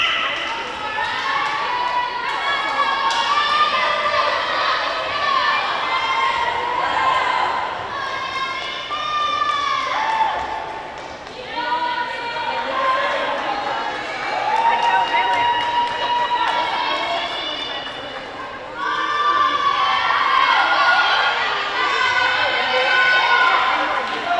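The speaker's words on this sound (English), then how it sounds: "the crowd is helping them out as well as their teammates cheering them on" A crowd and teammates cheering on girls' varsity swimmers at a high school swim meet between Medfield and Norton, sustained shouting and yelling in a reverberant pool hall, with an announcer talking over it.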